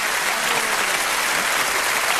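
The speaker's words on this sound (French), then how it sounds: "Je crois qu'on peut se lever pour l'applaudir." An audience gives a standing ovation to a card magician named Bernard: loud, dense, continuous clapping throughout, steady and close, with no voices over it.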